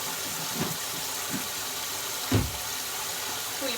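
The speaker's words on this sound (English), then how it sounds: "the sink's not quite full enough yet." Water running into a kitchen sink as it fills to soak a Bissell Little Green Machine's cleaning attachment, a steady broad wash of flow with a few soft splashes and knocks, moderately close and without talk.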